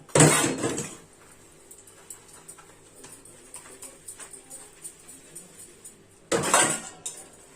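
Dishes, pots and cutlery being washed in a kitchen sink, with two loud clattering bursts of metal utensils at the start and end and lighter scattered clinks and rinsing between them, close by.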